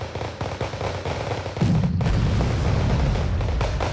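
Tank gunfire in the Cold War strategy game Wargame Red Dragon: deep, rumbling booms and rapid shots that build into a sustained loud barrage about midway through.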